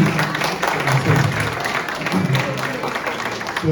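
An audience at a school's end-of-year program applauds a student group, producing steady, fairly loud clapping that fills the short span evenly, with a few faint voices mixed underneath.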